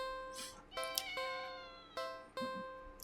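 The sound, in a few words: cat meowing in the video game Do NOT Take This Cat Home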